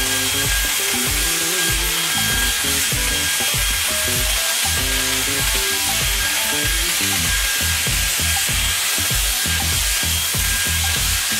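A Dyson Airwrap styler blows on very frizzy hair, a loud, steady whooshing airflow with a high motor whine that runs unbroken throughout and drowns out everything else.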